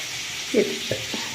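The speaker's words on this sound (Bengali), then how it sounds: "এদিকে চিকেন ভাজা চলছে" Chicken pieces fry in a home kitchen pan for a Bengali chicken and potato curry, a soft, steady sizzle with a quick stir, while a voice briefly murmurs nearby.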